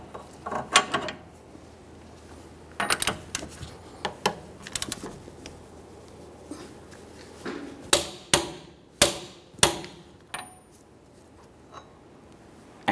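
A hammer driving a punch to stake the axle nut on a 2011-2020 Toyota Sienna rear wheel hub: sharp metallic strikes in short clusters, spaced by pauses, with the last group landing loud and close.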